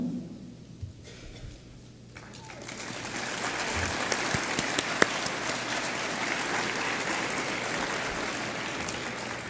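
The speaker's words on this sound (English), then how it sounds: "If you guys could please stand and be applauded for all of your hard work as well" Audience at a State of the City event applauding city department directors, the clapping swelling after a quiet start into sustained dense applause that carries on to the end.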